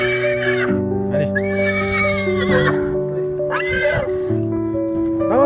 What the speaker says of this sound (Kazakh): Мына қасқа айғырдың үйірін айдап әкелдік.